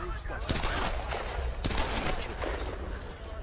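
Two sharp gunshots crack out over a dense, noisy Tomb Raider (2013) game soundscape, with a few fainter pops in between.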